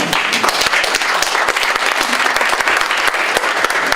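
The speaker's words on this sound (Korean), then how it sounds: "박수 부탁드리겠습니다" An audience applauds at the launch ceremony of the jobs committee for Moon Jae-in's 2017 presidential campaign. Many hands clap in a loud, dense, sustained wash that stays even throughout, with no talking over it.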